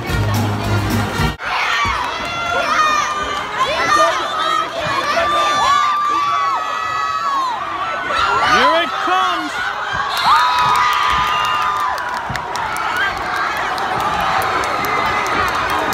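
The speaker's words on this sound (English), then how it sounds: "Those guys are cheering" At a school basketball game, a large crowd roars and cheers, high-pitched shouts and whoops rising over constant loud chatter, with a brief pause before the noise surges again.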